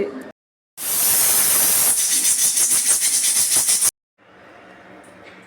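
A pressure cooker full of Karnataka-style bisibele bath whistles, letting out a loud rushing hiss of steam that pulses rapidly for about three seconds, then cuts off abruptly before quieter kitchen sound returns.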